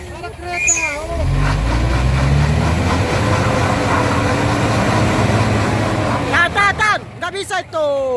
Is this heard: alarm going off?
no